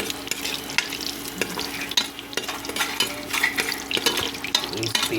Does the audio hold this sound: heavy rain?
no